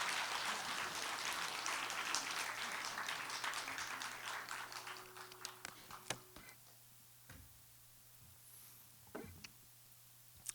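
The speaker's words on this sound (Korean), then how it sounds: "박수 한번 치죠." Church audience applause after a gospel song, dense broadband clapping for about five seconds that thins into scattered claps and fades, with a low steady hum underneath.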